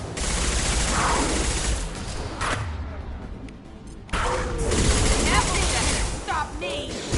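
Video game gunfire in Mass Effect 2, a loud running barrage of shots and impacts with a brief lull in the middle before firing resumes, with voices calling out in the mix.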